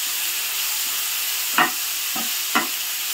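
Finely chopped tomatoes fry in a pan for masala bhindi, giving a steady soft sizzle broken by a few brief stirring clanks.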